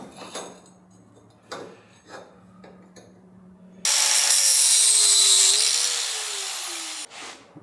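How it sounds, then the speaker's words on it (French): Power tool grinding metal on rear differential parts of a rotary-swapped Porsche 997: a loud, steady, high-pitched whine lasting about three seconds after quieter clanks and workshop handling noises. "Juste un peu meuler derrière"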